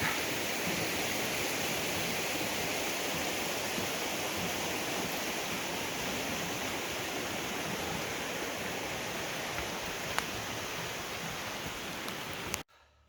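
A river rushes steadily beneath a bridge at Three Forks on the trail from Springer Mountain, a constant broadband roar of flowing water heard up close, with no voices over it.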